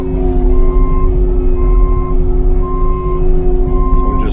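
A tracked machine that drives like a skid loader idles steadily nearby, a loud, even engine drone with a constant low hum and no change in pace.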